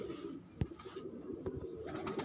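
Pigeons in a breeder loft give low, soft coos in short bursts, with a few brief flutters and small bird sounds over a steady quiet background, close by and moderately faint.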